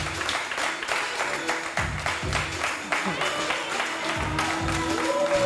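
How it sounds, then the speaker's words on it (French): A studio audience claps for the first duo, Jennifer and Cédric, on a French entertainment show, steady applause with music and some voices mixed underneath. "Les applaudissements, s'il vous plaît"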